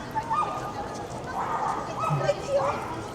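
French Bulldog with upright ears giving a few short barks and yips on a busy Tokyo street among cherry blossoms, heard under steady crowd noise and nearby talk.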